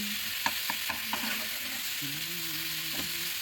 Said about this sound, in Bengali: তো দেখো ভালো করে সব মশলাগুলোকে আমি একটু ভেজে নিচ্ছি, নেড়ে নিচ্ছি।